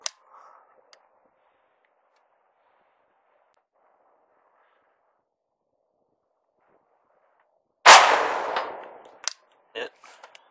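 Saiga 5.45x39 rifle fired at a target 160 yards away: one sharp, loud shot with a decaying echo, then a few short cracks and impacts, after a long quiet stretch.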